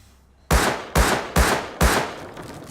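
Four loud, evenly spaced gunshots from the Rust video game ring out close together, each a sharp blast with a short decaying tail.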